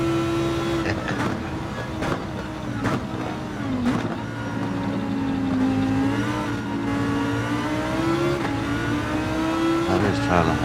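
A Lamborghini Huracán Group 3 race car in a racing game at Monza holds a steady, droning engine note that rises and dips through gear changes, with other cars nearby and someone talking over it.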